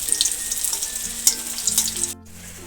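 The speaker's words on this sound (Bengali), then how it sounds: "এরকম করে সব কয়টা সোয়াবিনের মুঠাগুলো আমি ভেজে নিচ্ছি।" Soybean muthia dumplings fry in hot oil with a steady, close bubbling sizzle that runs evenly for a couple of seconds and then drops away abruptly.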